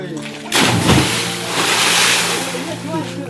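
Water in a village well at Malegaon is splashed hard and sloshes about, with a big splash near the start, voices present, and the surface swirling afterwards.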